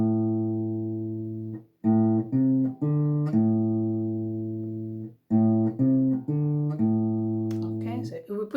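Guitar riff beginning on the open fifth string, moving through a few fretted and open-string notes in a simple repeated pattern, sustained and close, played solo with no talking over it.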